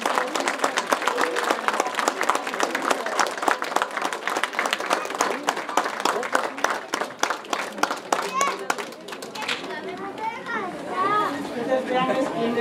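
Loud crowd applause and clapping at a San Antonio de Padua flag-lowering ritual in Mixquiahuala honouring the new mayordomía, dense and sustained, then giving way to children's voices and crowd chatter.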